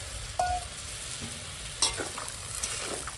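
Fried pointed gourd goes into a pan with salt, chili powder and turmeric, giving a faint, low sizzle broken by a few soft stirring clicks, with no talking.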